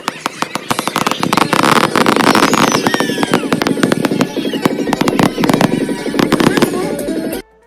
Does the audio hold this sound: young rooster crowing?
no